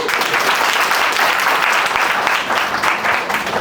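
A room of jewellery employees at a Bhima Jewellers sales training session breaks into brisk, continuous clapping, close and loud, holding an even roar of many hands for a few seconds without speech.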